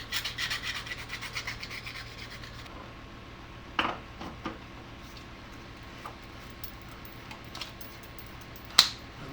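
Sandpaper rasps inside a pen tube in quiet, irregular rubbing strokes while the tube is rotated, with a few sharp clicks and taps between.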